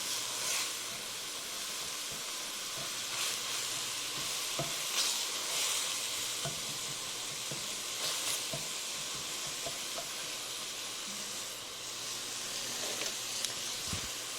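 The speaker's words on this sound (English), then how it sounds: "when I'm browning meat like this" Ground beef browning in a pan for chili, a continuous even sizzle and hiss with faint scraping as the meat is broken up and stirred, no talking.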